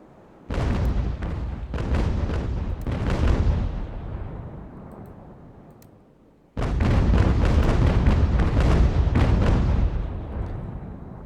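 Naval cannon broadsides loaded with grape shot in an American Revolution sea battle game, heavy rolling booms in two long loud bursts with a brief lull between them.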